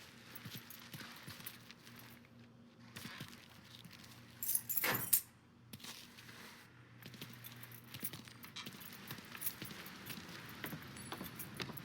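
A ring of car keys jangles in the video game Mafia 3, a brief close metallic rattle in the middle of otherwise quiet, low ambient game sound, with no talk.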